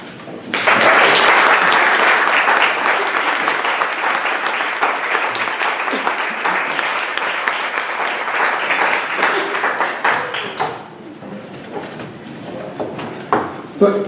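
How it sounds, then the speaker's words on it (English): An audience at a literary reading breaks into sustained applause, a dense, loud wash of clapping that fades slowly toward the end, with a few scattered claps trailing off. "Give another round of applause here."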